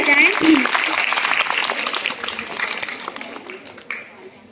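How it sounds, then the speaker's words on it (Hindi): Applause from an audience at a school function in Malegaon, a dense wash of clapping filling the clip under voices and crowd noise, fading slightly toward the end. "जोरदार तालियां बजाएं।"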